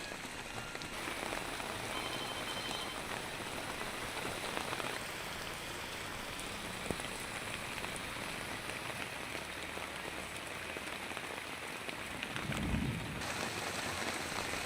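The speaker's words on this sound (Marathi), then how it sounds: "नवी मुंबईतही मुसळधार पाऊस बरसलाय" Heavy pre-monsoon rain pours down in Navi Mumbai, a steady, even hiss of downpour on surfaces with no voices, and a brief low thump near the end.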